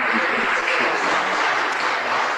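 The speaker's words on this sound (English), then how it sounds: "you might hear a bunch of clapping in the background here" A room full of staff claps at a real estate company kickoff party, a steady, dense wash of applause in the background lasting throughout, with some voices mixed in.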